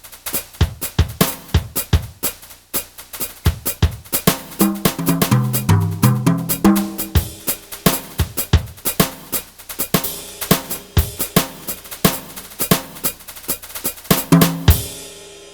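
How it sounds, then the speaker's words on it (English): A Roland TD7 electronic drum kit plays a jazz brush kit, with brushes on the toms and ride cymbal. Steady rhythmic hits run throughout, with a rolling tom passage in the middle, played alone with no talking. "I have the sound of jazz brushes hitting the tom-toms and the ride cymbal."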